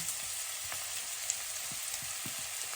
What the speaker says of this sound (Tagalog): Lagay natin ang ating sibuyas bombay. Sabay na yung bawang.